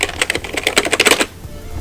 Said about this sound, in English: We have my old keyboard with its membrane.